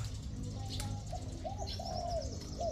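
Coos from an old male decoy spotted dove, repeated in short rising phrases several times over steady background noise, with faint chirps from other birds nearby.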